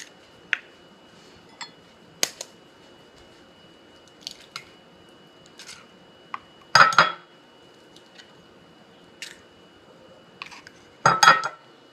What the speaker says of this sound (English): So we're going to put 4 eggs right here into our large measuring cup.